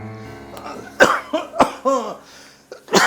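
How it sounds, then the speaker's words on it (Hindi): A person coughs several times in close succession, harsh and nearby, with short pauses between the bursts. "थोड़ी खांसी आ रही।"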